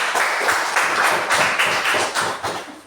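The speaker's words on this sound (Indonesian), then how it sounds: "Apresiasi buat kalian, tepuk tangan untuk kalian semua" Students clap together in a classroom, a dense run of close hand claps with a slightly uneven rhythm that swells and dips throughout, with no talking over it.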